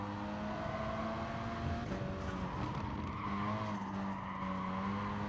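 Group B rally cars in Gran Turismo Sport sliding with sustained tire squeal over a droning engine note, the pitch shifting partway through, continuous and moderately loud with no voices.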